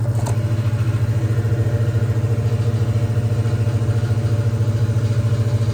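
A big air compressor runs steadily and loudly nearby as it builds pressure, its motor producing a deep, even, rapidly pulsing drone with no pauses.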